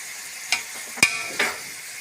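A silicone spoon stirring sizzling meat for kabsa in a pan, three short scraping strokes over a steady soft frying hiss, close and alone.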